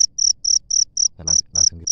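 Rapid, regular mlondon cricket chirps pulse in short bursts, joined midway by a second cricket chirping close by.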